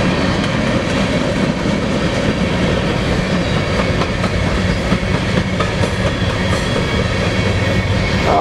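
A BNSF coal train rumbles steadily past near Spokane Valley, with a continuous dense roar of wheels and rhythmic clickety-clack from the railcars, close and loud throughout.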